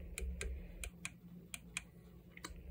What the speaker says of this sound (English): So we're going to toggle on this page key.